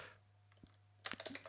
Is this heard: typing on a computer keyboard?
yes